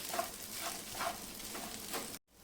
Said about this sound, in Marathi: खिचडी परतून परतून घ्यायची आहे